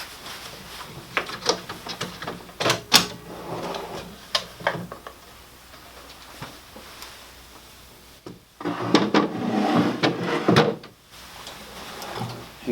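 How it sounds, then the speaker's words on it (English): A Hettich Quadro drawer slides out on its runners and is lifted free, with a series of sharp knocks, rattles and sliding scrapes, busiest near the end, close and clear with no speech. "To start with, we're going to remove the drawer."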